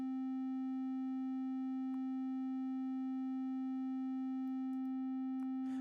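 Synthesized tone from an ambient pad patch built in Reaktor: a steady, pure sustained pitch with faint harmonics, held alone and unchanging, with a couple of small clicks.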